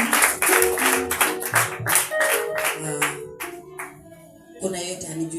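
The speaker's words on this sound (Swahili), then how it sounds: "Tumpatie Bwana sadaka ya makofi nzuri sana." A church congregation gives a long round of applause, dense clapping filling the space with voices mixed in, fading briefly before picking up again.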